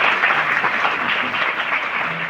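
Sustained applause greets guests at a Mitti Foundation event for girls: a dense, even wash of many hands clapping together, continuous and fairly loud from start to finish.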